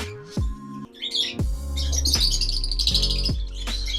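Lutino breeder pairs and their chicks chirp and squawk in a colony of cages, with sharp repeated calls and busy overlapping tweets close by, no talking.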